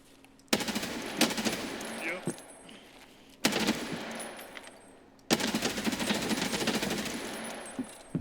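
Machine gun fire in Escape from Tarkov (SPT), a shooter game: three loud, sudden bursts of rapid automatic shots, each trailing off into a decaying echo before the next burst.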